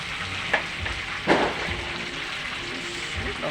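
Chicken frying in a pan for a New Year meal: a steady, close sizzle and crackle runs throughout, with a couple of brief utensil clatters near the start.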